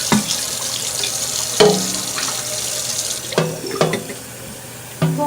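Tap water runs into a coffee maker's pot in short bursts, the faucet turned on and off several times with splashing and filling sounds up close.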